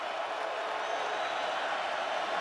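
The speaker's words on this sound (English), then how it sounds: "The crowd is getting into it." Football stadium crowd at a Florida State versus North Carolina State college game, a broad steady roar of cheering filling the space, loud and continuous with no breaks.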